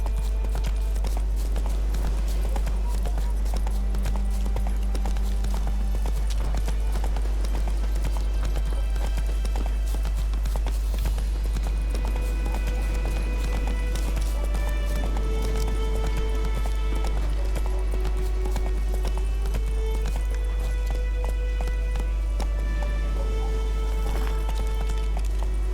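Horse hooves gallop in a steady clip-clop rhythm through The Witcher 3 game world, carrying on under background music for the whole stretch, with a brief whinny-like call at one point.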